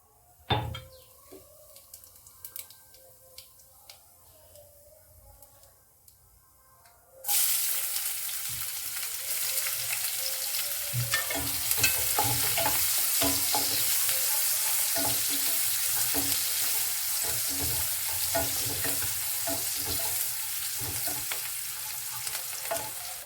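Cumin seeds hit hot oil, and after a few quiet clinks a loud, hissing sizzle breaks out and holds steady, broken by scraping stirs.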